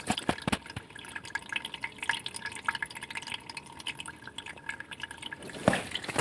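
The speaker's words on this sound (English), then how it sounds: "now it's actually draining out" Dirty water gurgles and drips as a once-clogged drain clears, with irregular close splashes and trickles over a steady wet background, louder near the end.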